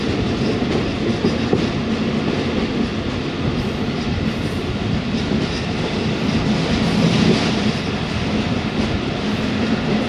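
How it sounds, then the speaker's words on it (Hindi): The Karakoram Express rolls slowly through a Pakistani railway station on the Lahore–Khanewal main line, a continuous loud rumble of wagons with rhythmic wheel clatter throughout, close by and with no talk. "कराक्रम एक्सप्रेस स्लो पास हो रही है कच्ची कोठी coat Radha Kishan railway station से।"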